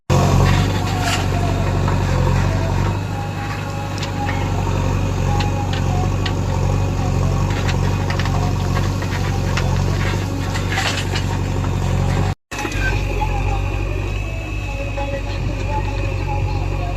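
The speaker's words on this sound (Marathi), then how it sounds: "आता ट्रॅक्टर आले भरायला" Tractor engines idling and rumbling at a JCB digging site as tractors arrive to be loaded, a loud steady mechanical drone throughout with a brief cut near the end, and a person talking over it.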